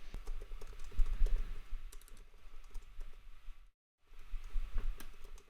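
A computer keyboard clicks under steady typing as an asynchronous JavaScript function is written, soft close keystrokes with a brief silent gap near the end before the tapping resumes.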